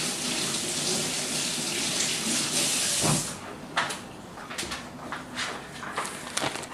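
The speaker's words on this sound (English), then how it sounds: "I'm gonna rinse my hands." A bathroom tap runs in a loud, steady hiss as hands are rinsed under it, then breaks into irregular splashing and drips as the hands move through the stream, recorded up close.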